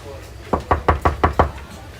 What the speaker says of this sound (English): Knock on the picture to my left.